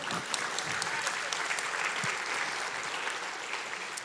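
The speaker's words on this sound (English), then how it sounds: "Feel free to clap." Sustained applause from a graduation ceremony audience, a steady dense wash of clapping filling the whole stretch at moderate distance, with a faint murmur of voices mixed in.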